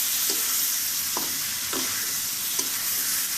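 Dal being stirred and sautéed in a pan, a constant close sizzle broken by a few soft scraping stirs about every half second to second.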